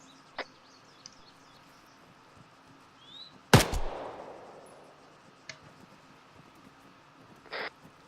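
Video game gunfire comes as a few sharp, isolated shots and one loud, close blast with a rumbling tail, separated by quiet stretches of faint background wind.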